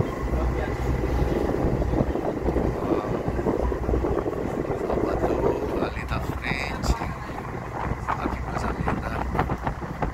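A motor launch boat heads toward Salvador, its engine giving a steady loud rumble mixed with rushing water and wind buffeting the microphone, continuous throughout.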